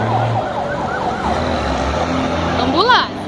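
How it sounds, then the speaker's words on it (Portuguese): An ambulance siren wails on a street with roadworks, its rising and falling tones sweeping repeatedly over steady traffic rumble and growing loud as it passes close. "Ambulância."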